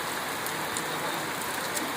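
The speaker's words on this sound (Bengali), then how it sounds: "আবার শুরু হয়ে গেছে বৃষ্টি" Heavy rain pours down in a steady, dense hiss, close and constant throughout, with no one speaking.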